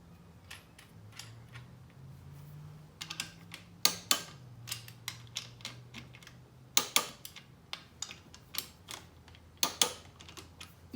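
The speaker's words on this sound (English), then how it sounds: "Bump our torque wrench up to 22 pound-feet once more." A torque wrench is adjusted to 22 pound-feet, giving a series of soft mechanical clicks and ratcheting ticks in irregular bursts over a faint low hum, close and fairly quiet.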